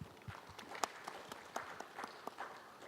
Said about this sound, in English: Let's give me a round of applause to welcome to deliver his presentation.